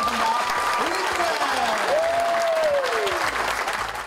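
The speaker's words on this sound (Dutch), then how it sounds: "maar geef haar een heel, heel groot applaus." Audience applause welcoming the presenter at a talent show, loud continuous clapping with a voice talking and exclaiming over it.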